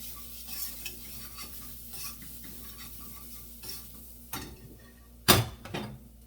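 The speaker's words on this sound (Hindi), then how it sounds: "और हल्दी। और मिक्स कर देना है।" Turmeric being stirred into a dish in a pan, giving soft scraping and faint sizzling throughout, with a louder clatter of utensil against the pan near the end.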